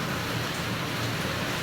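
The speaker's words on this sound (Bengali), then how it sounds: "প্রচুর বৃষ্টি হচ্ছে।" Heavy downpour in Noakhali, a thick constant roar of rain close around, loud and unbroken for the whole moment with no speech.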